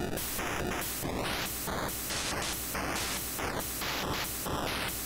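Synthesized noise in Serum made to act as fake 8-bit drums and effects, heard as loud, constant harsh static that changes in rapid stepped bursts and pitch sweeps, with no voice.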